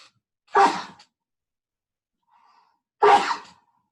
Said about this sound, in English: I do human things like sneeze.